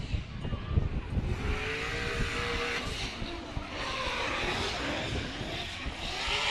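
A V8-swapped Nissan S14 drift car on Achilles radials in Formula Drift qualifying at Texas Motor Speedway, its engine roaring continuously with screeching tires, loud and sustained throughout.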